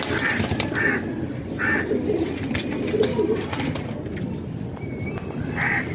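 Pigeons coo in a loft, soft repeated throaty calls close by, with faint rustling and the occasional flutter of wings and no talking.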